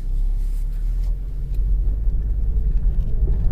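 A 2016 Chevrolet Cruze with the 1.4-litre engine driving, a deep steady rumble of engine and road noise that swells slightly as it pulls away, close and continuous with no speech.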